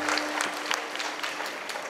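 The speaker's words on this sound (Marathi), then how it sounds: "अरे टाळ्या तर वाजवा काका हो" An audience claps steadily at a live Marathi kirtan performance: a dense, continuous patter of many hands, close and fairly loud, with no break over two seconds.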